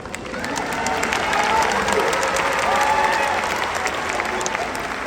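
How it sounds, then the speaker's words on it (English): A large audience applauds at a high school graduation ceremony, a steady dense wash of clapping with faint cheering mixed in, sustained and even in loudness, heard alone without talk. "Go ahead and clap, it's okay."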